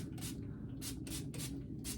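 Hair spray misted over wavy hair in repeated short hissing bursts, five quick sprays with brief gaps between them, close and fairly soft against a quiet room background.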